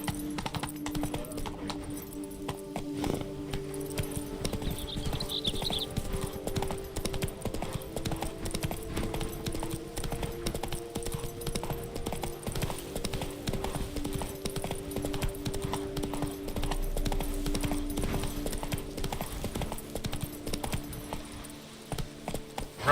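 Roach, a horse in the video game The Witcher 3: Blood and Wine, gallops steadily with a rapid, rhythmic clip-clop of hooves, close and continuous, over a faint game soundtrack.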